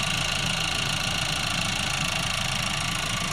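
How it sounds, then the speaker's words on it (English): The quiet four-cylinder turbo engine of a 2024 GMC Terrain SLT SUV idles steadily nearby, a smooth, even, low hum with faint vibration and no changes in pitch. "Under the hood we have a very quiet turbo engine, 4-cylinder."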